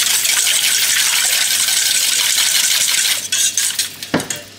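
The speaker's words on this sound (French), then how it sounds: "Allez, on remue tout ça." A utensil stirs and scrapes through a zucchini mixture in a pan, a steady hissy swishing throughout that turns into a few sharper clinks and knocks near the end.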